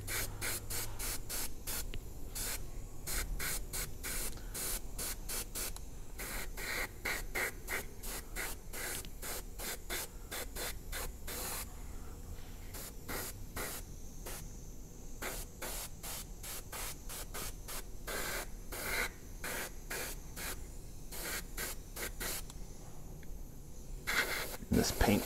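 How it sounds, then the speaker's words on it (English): A Mig Jimenez AirCobra airbrush sprays paint and air in rapid, close hissing bursts, repeated steadily and sometimes in quick clusters for the whole stretch. "I'm just blowing some air through it here just to help dry it off"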